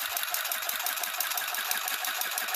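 Cheap budget sewing machine from Shein running a chain stitch, a fast steady mechanical whir with a dense rapid clatter, close and continuous with no talk.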